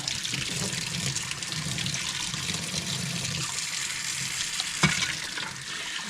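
Tap water runs steadily through the vents of an Arai motorcycle helmet during cleaning, a continuous broadband splash and hiss with a brief louder splatter near the end and no talking.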